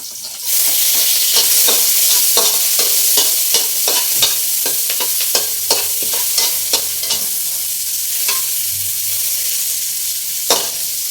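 Ginger stir-fried in a pan gives a loud, steady sizzle, broken by repeated clicks and scrapes of a utensil stirring it.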